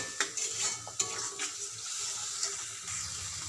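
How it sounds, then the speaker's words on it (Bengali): Cauliflower curry masala with yogurt and a splash of water being stirred in a pot, a spatula scraping and clinking against the metal over a soft wet sizzle, quiet and close with a few sharper knocks. "আবার একটু জল দেব দিয়ে ভালো করে কষে নেবো"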